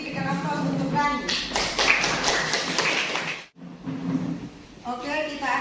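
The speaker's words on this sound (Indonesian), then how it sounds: "Berikan aplaus untuk Rani." Classroom applause breaks out as a brief burst of clapping in the middle, with people talking before and after it.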